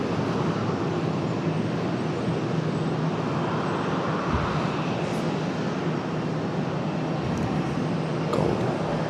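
An Etihad airliner from Abu Dhabi moves at Charlotte's busy airport, giving a broad, continuous jet roar that stays loud and even across the whole stretch, with faint rattles and no talk.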